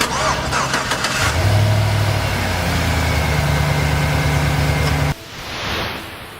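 A pickup truck's engine cranks and catches on a ballistic backpack lithium power pack, settling into a steady loud idle for several seconds before cutting off abruptly.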